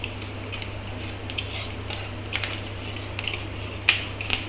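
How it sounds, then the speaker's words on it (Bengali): Mustard seeds and dried red chilies in hot oil in a kadai give sharp, scattered pops and crackles over a low steady hum. The sound is close and continuous, with no talk. "দিয়ে দিলাম একটু শুকনো লঙ্কা ফোড়ন।"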